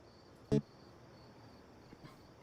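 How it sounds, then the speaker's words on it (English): Crickets chirping outdoors, a faint steady insect ambience with a thin high tone, broken by one short louder knock and a softer one later. "I can hear crickets outside and shit"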